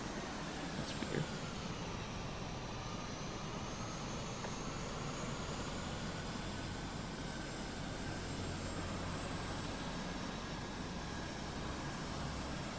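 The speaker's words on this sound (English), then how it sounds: "there's definitely a helicopter somewhere around here," In the video game Carrier Command 2, a helicopter drones steadily nearby with a continuous engine roar and whine that slowly shifts in pitch, loud and unbroken throughout.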